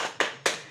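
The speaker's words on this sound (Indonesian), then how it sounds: "kita tepuk hebat dulu untuk Bu Is." A group of adults at a community savings session clapping a short cheer rhythm, two sharp claps close together, fairly soft and with no voices over them.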